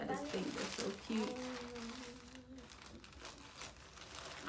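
A small plastic zipper bag from a kids' clothing haul crinkles and rustles as it is handled, under steady close talking.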